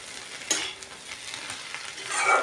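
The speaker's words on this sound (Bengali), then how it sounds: "লাল লাল করে ভেজে নিয়েছি" Fish roe frying in a pan, sizzling steadily close up, with scraping stir strokes at intervals and a louder burst of sizzle toward the end; no talking.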